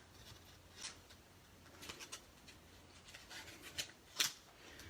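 Scissors snipping a small piece of paper card during card making, a few short faint cuts and rustles spread across a quiet background.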